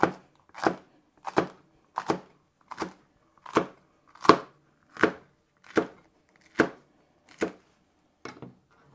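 Steady knife chops through seeded vegetables on a cutting board outdoors, about a dozen crisp strikes at an even, unhurried pace with quiet gaps between them.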